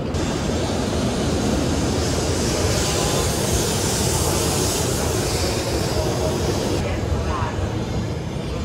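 A Japanese bullet train roars past at close range, a loud steady rushing rumble with wind-like hiss that holds for several seconds before easing slightly.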